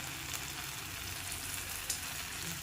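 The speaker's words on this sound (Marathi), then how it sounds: "थोडंसं साईडला बटर टाकून घ्या." Butter sizzles and melts in a pan beside sliced bread being toasted, a soft continuous crackle and hiss, fairly quiet and close, with no voices.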